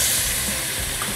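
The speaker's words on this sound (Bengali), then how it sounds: "এখানে এবার আমি দিয়ে দেব জল" Water hitting a hot pan of potatoes, stem vegetables and pointed gourd fried in spices gives a loud, steady steaming hiss and sizzle that holds, close and alone, for about a second.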